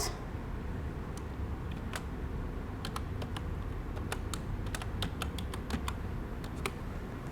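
Password being typed on a computer keyboard: a quick, uneven run of light key clicks over a quiet room hum, close and fairly soft.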